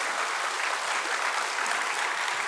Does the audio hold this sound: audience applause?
yes